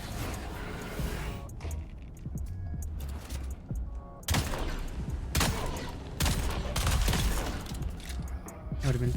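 Pistol gunfire in a vampire video game, sharp shots in quick bursts over a dense, busy game mix with impacts and effects, loud and close throughout.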